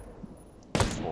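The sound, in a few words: Zastava M93 sniper rifle shots in Ghost Recon Breakpoint, video game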